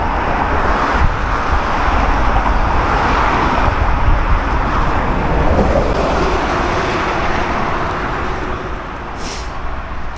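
Steady, loud road noise along the A19 heard while cycling, a continuous broadband rush of passing traffic with no clear pauses, fading slightly toward the end.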